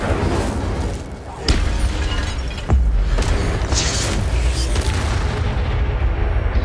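A Harry Potter video game's Incendio fire spell effect, a loud, dense roar with heavy booming bursts, one near the start and a stronger one just before the midpoint, sustained to the end.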